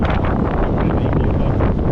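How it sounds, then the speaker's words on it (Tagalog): Strong wind buffeting the microphone in a continuous loud roar at a street intersection in Toronto, with no distinct voices audible. "malakas na hangin"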